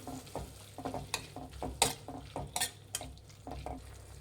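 Tomato gojju stirred and frying in a pan, with repeated scraping strokes of a spoon against the pan over a steady low sizzle, several sharp clinks standing out, no talk.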